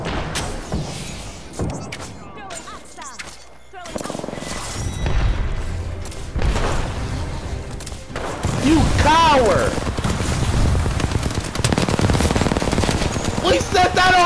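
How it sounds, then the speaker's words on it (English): Rapid gunfire from the video game Apex Legends, with bursts of automatic fire and booms that build through the clip, loud and close, mixed with game effects and voices talking over the shooting. "Listen up, I'm getting shot at."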